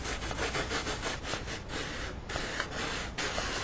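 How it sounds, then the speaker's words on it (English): Quick back-and-forth scraping of a sanding block on the top of a tin can, rapid rhythmic strokes up close. "take your sanding block, and you just want to sand the top of your can"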